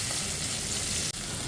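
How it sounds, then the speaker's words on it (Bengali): Onions frying in a little oil in a frying pan, giving a dense, continuous close sizzle with one momentary dropout. "আমরা একটা ফ্রাই প্যানে সামান্য তেল নিয়ে নিচ্ছি। এই তেলের উপরে কিছু পেঁয়াজ দিয়ে দিব"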